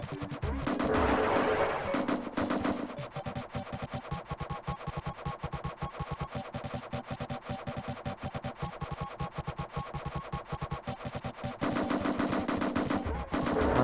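Rapid automatic gunfire from the video game Steel Talons rattles in dense, rhythmic bursts that run almost without a break. The volume swells heavier at the start and end, and no talking is heard.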